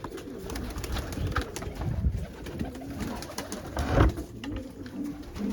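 Several pigeons coo in soft, repeated low calls nearby, overlapping one another against a faint background hum; no talking.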